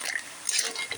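Stir-fried octopus being stirred in a pan: a utensil scrapes and clinks against the metal through one brief moment, with faint sizzle and liquid sounds close by and no talking.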